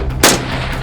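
A single sharp, loud AR rifle shot cracks out over a steady hum of background noise.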